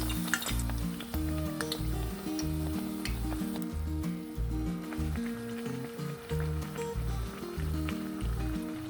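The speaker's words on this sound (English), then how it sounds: "We'll just place one of those fry breads gently in it." Fry bread frying in hot oil gives a close, steady bubbling sizzle with a rhythmic low pulsing beneath and scattered small pops and crackles throughout.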